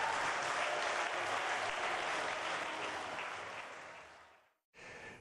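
Loud, sustained applause from an audience for a gymnastics acrobatic performance in Talheim, a dense patter of many hands clapping that gradually fades out, drops to silence, then briefly resumes.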